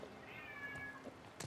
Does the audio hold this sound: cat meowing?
yes